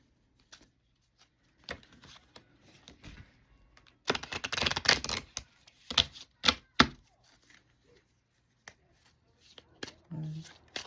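Tarot-style angel cards being shuffled by hand, a run of dense riffling and flicking bursts with quieter taps and handling noises around them, close and fairly soft.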